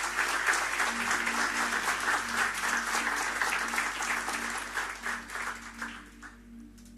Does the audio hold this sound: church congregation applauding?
yes